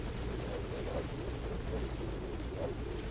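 A hovering helicopter in Metal Gear Solid V: Ground Zeroes gives off a loud, continuous rotor roar with a steady chopping throb and no break.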